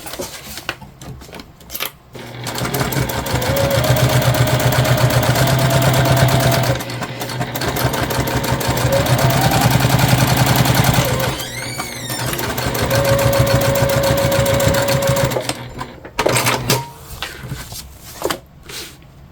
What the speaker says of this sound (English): You'll never see this stitching that we're doing right now.